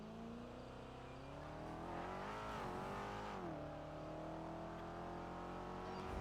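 Continuous car engine hum from a video game vehicle, revving with rising and falling pitch and a hint of tire squeal, steady and loud throughout.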